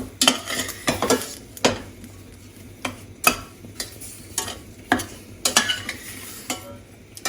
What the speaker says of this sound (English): I'm going to put it in the pot. And I'm just going to put a 1/4 cup of sugar in there. And I'm going to just stir it up.